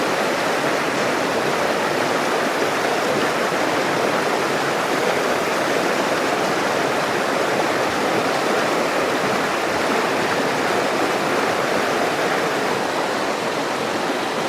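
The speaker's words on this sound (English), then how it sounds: "you got a rapid right here, a rapid right there" White-water rapids on a creek at an old spillway rush in a loud, continuous, dense roar that stays constant throughout, with no voices.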